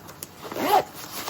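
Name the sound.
zipper without automatic lock being pulled open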